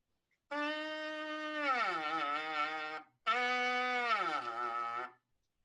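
A brass player buzzes on a detached lead pipe, making two sustained reedy tones with a bleat-like timbre, each with a pitch that slides downward midway, separated by a brief gap, close and fairly quiet.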